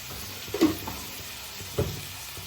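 Dried fish and tomato curry being stirred in a pan, with a low steady sizzle and two distinct soft scraping strokes of the spoon, close and alone.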